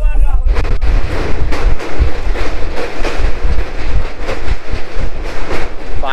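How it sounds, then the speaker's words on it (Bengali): Passenger train rolling into Farakka Junction, loud rumbling and rhythmic clattering of wheels over rail joints with sharp metallic knocks, heard close from inside the coach. "এখন আমাদের ট্রেন এসে পৌঁছেছে ফারাক্কা জংশনে"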